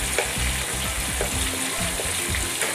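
Chicken schnitzel fries in hot oil, giving a dense, steady crackling sizzle close by, with soft bubbling as oil is spooned over the top and no speech.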